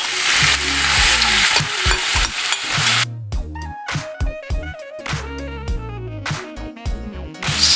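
Beef frying in oil in a pan for Ecuadorian corviche, a loud, broad sizzle with stirring for the first few seconds, then quieter sizzling bursts under a tonal, music-like layer.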